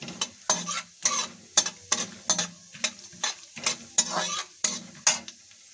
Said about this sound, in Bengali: ড্রাই ফ্রুটগুলো হালকা ফ্রাই হয়ে গেছে।